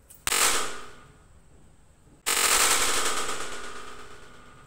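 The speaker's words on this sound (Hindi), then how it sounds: "गाइस इतना ज़ोर से आवाज़ आया गाइस, यहाँ पे तो इतनी ज़बरदस्त आवाज़ आई" A sutli bomb firecracker bursts with a loud, sharp bang, and a second even louder blast follows about two seconds later, each ringing out into a long fading rumble outdoors, with no voices.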